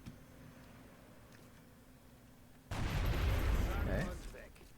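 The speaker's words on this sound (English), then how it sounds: "Then shoot it with the sniper." A sniper rifle shot in the XCOM Long War strategy game lands partway through, a sudden loud blast that drops into a dense, ringing rumble of gunfire and impact lasting a couple of seconds after a quiet stretch.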